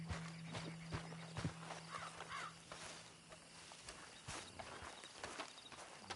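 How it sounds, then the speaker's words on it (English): A horse's hooves clip-clop at a steady walking pace in the video game Red Dead Online, faint and fairly close, with a few crow-like caws in the background and no talking. "Then you better get on this horse"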